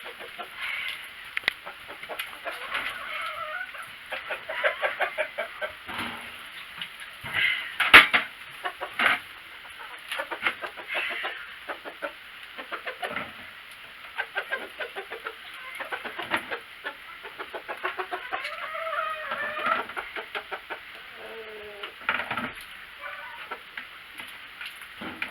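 Chickens cluck and murmur in a chicken house, with scattered soft calls and ticking scratches, moderately close and fairly quiet throughout.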